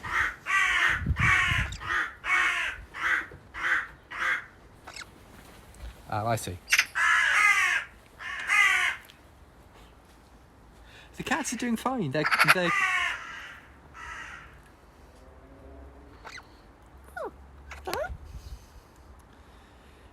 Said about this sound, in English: there were 2 wild crows on their roof, so that was the honking